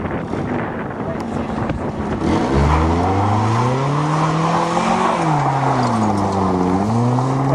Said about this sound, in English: Show us some burnout potential.